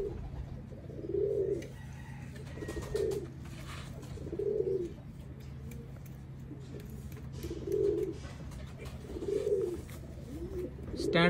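A male pigeon in a loft coos softly about six times at a slow, regular pace, fairly faint against a low steady background hum.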